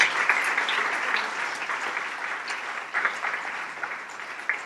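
Steady applause from an audience at a political speech in India, given in honour of women, heard alone at a moderate distance with no break.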